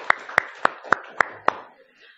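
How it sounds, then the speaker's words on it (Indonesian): A short burst of classroom clapping: six separate, evenly spaced claps from a small group of students, close and fairly quiet, dying away into soft room noise. "Kita tepuk tangan dulu"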